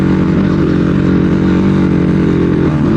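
A motorcycle climbs a steep road in Nepal, its engine droning loudly and steadily close by under heavy throttle, with no pause across the stretch.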